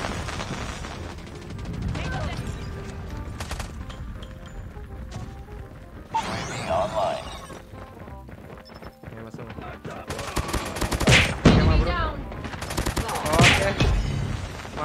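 Repeated bursts of FR 556 assault rifle fire in Call of Duty Mobile, rapid automatic volleys that swell loud toward the end, with brief pauses between strings and faint game sounds underneath.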